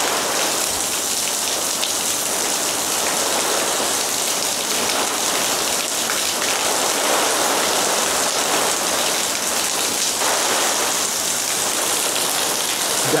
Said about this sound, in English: Because, my God, this kind of rain.